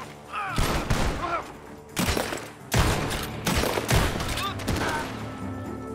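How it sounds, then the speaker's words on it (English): In Red Dead Redemption 2, repeated bursts of gunfire from a barn crack out in clusters, loud and close, with a voice shouting amid the shots. "The gunshots are coming from that barn!"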